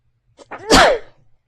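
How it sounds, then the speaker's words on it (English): A single sharp mouth sneeze bursts out after a brief inhaling catch, loud and close, then quickly fades to silence. "Mouth sneeze."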